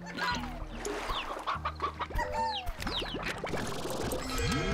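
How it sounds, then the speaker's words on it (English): Rooster in the Slime Rancher video game clucking and crowing repeatedly, fairly close and clear, amid layered game sound effects with chirps and swoops. "Grab a rooster."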